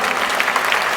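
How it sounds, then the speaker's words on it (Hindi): Audience applause at a stage event honoring artists, a steady dense clapping throughout, fairly close and loud with no talk over it. "मैं एक बार आप सभी की तरफ से तालियां चाहूंगा इन सभी आर्टिस्टों के लिए"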